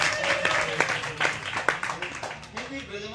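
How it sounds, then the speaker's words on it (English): Audience applause at a devotional morning gathering, a dense wash of clapping with a few sharper hand claps, steady and fairly loud throughout, with faint speech-like tones underneath. "Give a big round of applause here."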